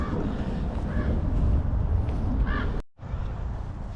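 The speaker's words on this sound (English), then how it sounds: "maybe we can get away from those crows" Crows caw at a cemetery: a couple of short harsh calls, one around the middle and a stronger pair later, over steady outdoor wind and background rumble.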